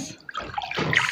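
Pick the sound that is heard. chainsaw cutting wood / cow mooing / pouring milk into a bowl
pouring milk into a bowl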